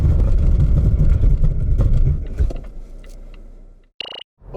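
A 2021 Volvo V90 Cross Country brakes hard on a cool road surface. Loud road and tire rumble fades as the car slows to a stop, followed by a short tonal beep.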